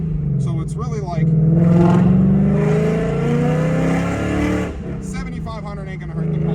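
Ford Mustang Dark Horse engine revving hard and holding high RPM for several seconds, loud and close, dipping briefly before picking up again, with people talking over it.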